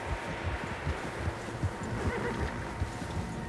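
Several horses in the Western video game Red Dead Redemption 2 whinny and neigh while hooves clip-clop steadily nearby, a busy herd sound with no talking.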